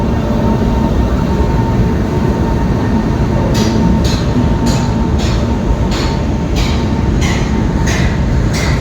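A train rolls through a railway station, a loud continuous rumble with a regular series of rhythmic clacks from the wheels over rail joints in the second half, with no voices.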